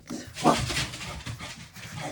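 A dog pants and whimpers close by, with a short yelp or bark mixed in, restless and uneven over a couple of seconds.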